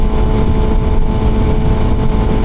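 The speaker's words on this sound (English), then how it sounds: "The soundtrack of it is absolutely pure, old school, 4-cylinder, inline, screamer hot rod." Steady, loud engine drone from a Suzuki GSXR 600 motorcycle with an inline four-cylinder engine, a smooth continuous hum at an even cruising pitch throughout, with no voices.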